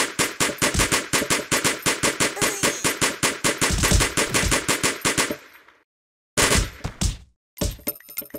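Rapid automatic gunfire hitting the buddy in the Kick The Buddy video game: a loud, steady stream of close shots for about five seconds, then silence and two shorter bursts.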